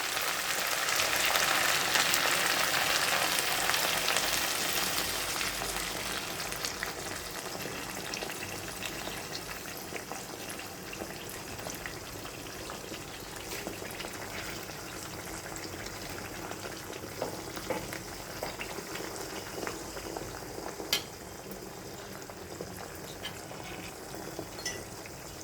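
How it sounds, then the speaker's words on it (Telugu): Herbal hair oil with leaves heating in a pan, a soft continuous bubbling sizzle that is fuller at first and then settles to a quieter steady simmer, with no talk. "అరగంట పాటు ఆ నూనె కాగే వరకు, ఇందులో ఉన్న ఆకుల రసమంతా దిగే వరకు మనం ఆ నూనెని వేడి చేసుకోవాలి."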